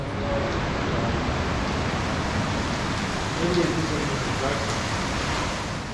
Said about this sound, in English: It's raining. It's glorious.